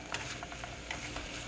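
Olive oil, pepper and garlic powder being stirred in a pan with smoked sausage medallions, giving soft repeated scraping and clinking strokes at an even pace, quiet and close, with no talking.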